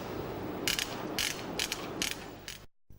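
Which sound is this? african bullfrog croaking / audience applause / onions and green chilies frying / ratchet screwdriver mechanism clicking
ratchet screwdriver mechanism clicking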